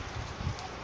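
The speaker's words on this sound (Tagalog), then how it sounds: "Umuulan guys." Steady rain falls on a surface as a dense, even patter with a faint, continuous wash of drops and no voices.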